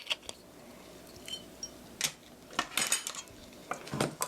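Egg and rice wine batter stirred with a utensil in a bowl, giving scattered light clinks and scrapes against the side, close and quiet, growing busier toward the end.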